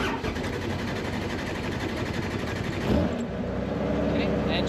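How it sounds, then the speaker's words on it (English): A helicopter engine starts up during a pre-flight procedure, a steady loud mechanical drone and rumble with a surge and rising whine near the end as it comes to life. "Okay, the engine is on."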